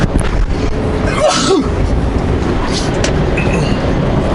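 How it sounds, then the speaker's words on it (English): A single sharp sneeze bursts out close by over the loud, steady rumble of a vehicle moving on a highway in foggy weather with the windshield wipers running. "Sneeze."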